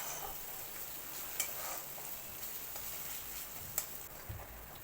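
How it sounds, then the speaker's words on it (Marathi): Chopped onion sautés in a pan for masala paneer, a soft steady sizzle with occasional spoon stirs and light clinks against the pan. "टाकून चांगलं परतवून घ्यायचं. कांदा लालसर होऊ द्यायचं जरा."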